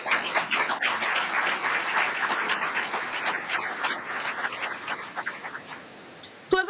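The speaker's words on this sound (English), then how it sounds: "So can we just hand clap that?" An audience at a Cambridge College grand opening claps steadily for a graduate, a broad patter of many hands that thins out toward the end before a few final claps.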